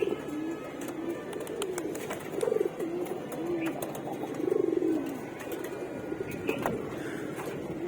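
Pigeons at a home loft cooing in repeated low, rolling calls, close and fairly loud, with light clicks and rustles in the background.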